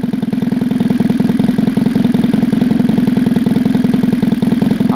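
A Kavan K50 model engine idles on a 20:1 gasoline mixture with CDI ignition, a steady, loud, fast-pulsing buzz that runs evenly throughout with no talk over it.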